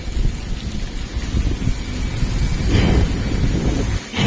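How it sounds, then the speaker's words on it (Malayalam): Heavy rain roars continuously with a low rumbling undertone, steady and close throughout. "മഴയ്ക്ക് ഒരു പഞ്ഞമില്ല."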